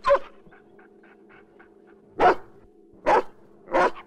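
A large dog barks three times in separate loud, close bursts, with an earlier yelp at the start and a faint steady hum running underneath.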